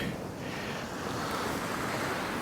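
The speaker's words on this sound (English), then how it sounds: "Waves in front of us have just increased in size slightly in the last half hour" Sea waves break on a wintry shore, heard as a steady, broad wash of surf mixed with wind rumble, continuous and moderately loud with no voices.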